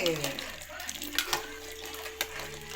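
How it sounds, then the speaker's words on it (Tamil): Milk poured from a vessel while preparing a home digestive drink, a soft liquid trickle and splash running through the short moment with quiet background voices. "இந்த பாலை எடுத்து நம்ம போய் ஊற்றணும்"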